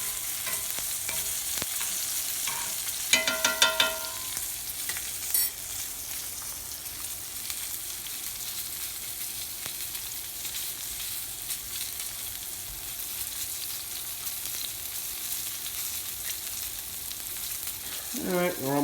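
Steak searing in hot butter in a pan, being reverse seared: a steady, fairly loud sizzle runs throughout with a few brief clinks and spatters early and near the end, and no talking.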